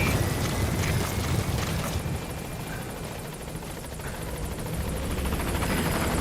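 Steady, loud rotor drone of the B-Quad support helicopter from Metal Gear Solid V: The Phantom Pain, arriving at a landing zone, with a whooshing, wind-like wash that holds throughout without any talk.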